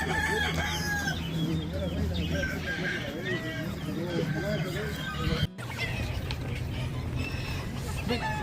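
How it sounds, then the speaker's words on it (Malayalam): Silkie chickens crow and cluck steadily in a busy, close flock, with overlapping calls and a brief dropout midway, voices in the background. "സിൽക്കി കോഴി"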